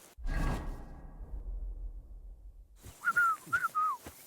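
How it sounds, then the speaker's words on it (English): A man whistles a short tune in Kingdom Come Deliverance 2, a few clear wavering notes in quick succession, preceded by a soft whoosh and a quiet pause. "Your whistling is getting on my fucking nerves."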